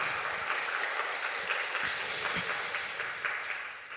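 Church congregation at a mothers' prayer meeting giving sustained applause, a dense, even roar of many hands clapping throughout, slightly tapering near the end, with no talk on top.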